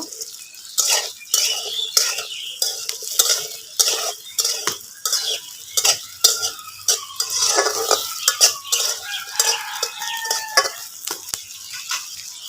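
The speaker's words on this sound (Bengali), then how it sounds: "এটা আমি দুই মিনিটের মতো ভেজে আমি আমরা চিকেনগুলো দিয়ে দিব" Chilli chicken ingredients, capsicum among them, frying in a home kitchen pan with a soft sizzle beneath repeated scraping and clinking strokes of a spatula, steady and close throughout.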